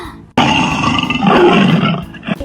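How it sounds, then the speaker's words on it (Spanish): A tiger gives one loud, close roar that swells and rumbles for about two seconds before trailing off, with no talking over it. "Ahora, niños, vamos a escuchar cómo hace el tigre."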